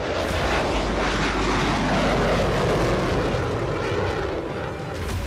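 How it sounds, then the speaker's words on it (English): Broad, continuous roar of an F-16 fighter jet engine, Pratt & Whitney F100 or General Electric F110, loud and sustained with heavy low rumble and hiss, no voices. "Whether roaring with the Pratt & Whitney F-100 or the General Electric F-110, the F-16's engine choices define its unparalleled performance."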